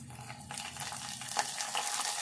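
Telangana-style tempering of dried red chillies and lentils frying in oil, with curry leaves about to go in, producing a soft, steady sizzle that swells a little with faint stirring.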